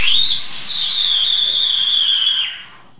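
A single Diwali whistler firework in India screeching at a high, slightly wavering pitch for over two seconds, loud and near, then cutting off abruptly.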